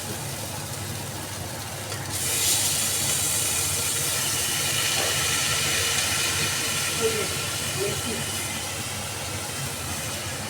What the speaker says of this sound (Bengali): এবার চিকেনগুলো দিয়ে দিই।